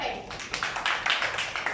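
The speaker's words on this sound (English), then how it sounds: "give a clap to your friend." A classroom of students clapping for a classmate, a brief burst of many overlapping hand claps in a loose, quick rhythm, fairly close in a room.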